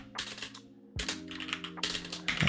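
Rapid clicking keystrokes on a computer keyboard while a terminal command is entered on a Linux server, close and crisp in quick bursts with a short pause between runs.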